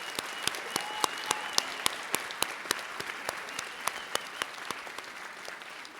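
An audience at a university winter commencement ceremony applauds university employees, a steady roomful of clapping with sharp individual claps standing out, sustained for several seconds before thinning slightly.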